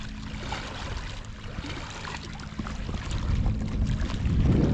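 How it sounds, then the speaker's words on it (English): Creek water at Wild Creek Falls in Beltzville State Park rushes in a steady broadband wash that grows louder toward the end, with no talking. "I could just sit here and listen to this water all day."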